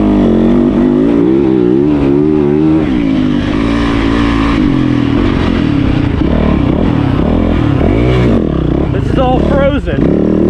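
A bulldozer cuts through frozen grass while dozing a new turn track section. Its loud, close diesel engine drones steadily, with revving surges and clattering toward the end.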